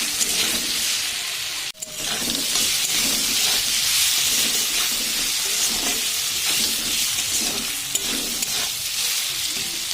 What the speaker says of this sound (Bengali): আলুগুলো ভালো মতন ভাজা হয়ে গেছে।